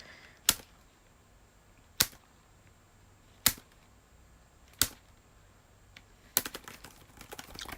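Individual laptop keys on a small 11.6-inch notebook with a faulty keyboard pressed in sharp, separate clicks about a second and a half apart, then a quicker flurry of taps at the end, close and alone.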